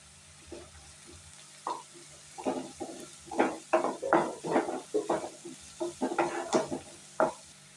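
Sliced onions fry in a pan for okra masala while a spoon repeatedly scrapes and stirs them, producing a quick rhythmic series of close clinks and rasps over a soft background sizzle.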